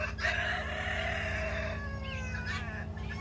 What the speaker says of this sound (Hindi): मुर्गा लीड कर रहा है और बोल भी रहा है।